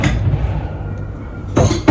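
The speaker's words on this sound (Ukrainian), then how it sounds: "Зараз візьму тарілку." A low rumble of handling, then two quick clinks of dishes as a plate is taken near the end, close and fairly loud.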